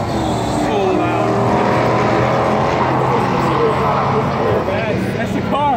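A loud race car engine roars continuously at a race event, a dense, steady drone that fills the whole moment, with voices talking faintly over it.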